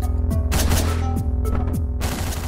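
Gunfire bursts in the video game Hotline Miami: loud, rapid shots fired in quick clusters with crashing impacts between them, continuous and up close, with no voices.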